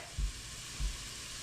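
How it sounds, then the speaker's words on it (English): Garlic added to a hot pan of cooked beans for a lentil sloppy joe, giving a steady sizzle with two brief low thumps as it goes in, no talking. "To this, we're going to add some garlic."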